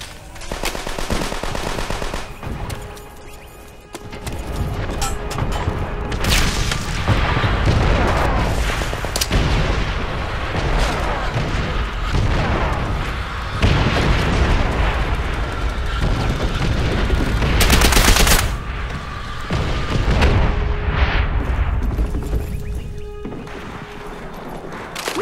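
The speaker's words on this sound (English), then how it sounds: "Our artillery will shake him up." Artillery fire and machine guns in Call of Duty: World at War, heavy booming blasts and rattling bursts layered over a continuous battlefield roar, loud and sustained with several big impacts.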